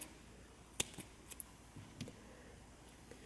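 Scissors snip a crochet yarn tail on a pet blanket, one sharp close cut followed by a few light clicks, quiet and with no talking.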